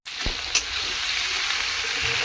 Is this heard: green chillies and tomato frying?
yes